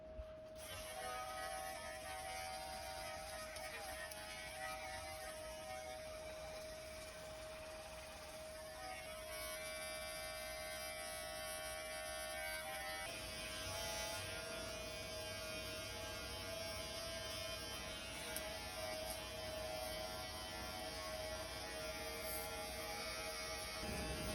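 Limural Pro electric hair clippers buzz steadily at close range while cutting hair at a level 3 guard, a continuous motor hum running unbroken through the whole stretch with no talking.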